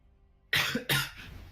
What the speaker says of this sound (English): Sorry about the cough, by the way.